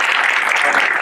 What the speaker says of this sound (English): let's give a great round of applause